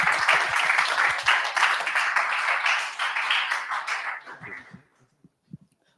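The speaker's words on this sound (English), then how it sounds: "Please give him a big round of applause." An audience at a tech meetup claps steadily for a speaker being introduced. The applause is dense and even, then thins to a few last claps before fading out.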